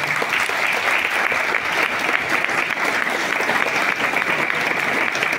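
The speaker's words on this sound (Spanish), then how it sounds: "quiero que le aplaudan al personal de Finabien" A large crowd claps steadily and enthusiastically at a bank branch opening in Tenancingo, a dense, even wash of applause lasting the whole stretch.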